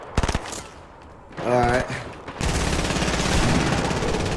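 Gunfire in a shooter video game: a quick burst of shots opens, then after a short spoken phrase a sustained rapid volley of automatic fire continues to the end.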